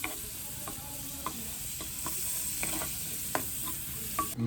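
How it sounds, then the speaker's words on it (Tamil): Butter and garlic sizzle in a pan for prawn cooking, a steady close hiss of frying with occasional light clinks of stirring throughout. "அதே தாச்சிக்குள்ள கொஞ்சம் பட்டரை போடுவோம். உள்ளியை போடுவோம்."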